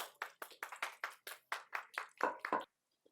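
A run of roughly a dozen sharp hand claps in a quick, slightly uneven rhythm, close and clear against silence, ending in a brief pause.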